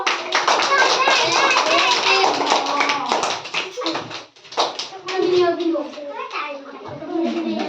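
A group of children clap in quick bursts of sharp, close taps during an activity session, interleaved with lively children's chatter and an adult voice.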